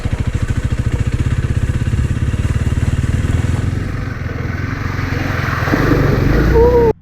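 A Honda CRF300L motorcycle riding off-road, its single-cylinder engine thumping steadily up close, swelling louder near the end before cutting off abruptly.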